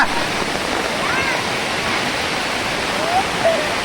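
A monsoon waterfall in Konkan roaring as a dense, continuous rush of falling water, loud and steady throughout with no breaks.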